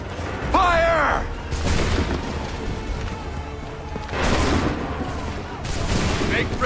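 Musket volleys crack out in Assassin's Creed, two heavy fusillades with rumbling echoes spaced a few seconds apart, each followed by lingering smoke-and-crowd noise, with shouted battlefield voices in the mix.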